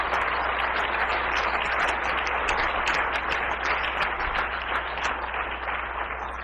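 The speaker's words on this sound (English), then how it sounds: "let's give a round of applause for our presenters today" A dense, continuous wash of clapping from an auditorium audience greets presenters at a cybersecurity and drones event. It holds steady and loud throughout, with no voices above it.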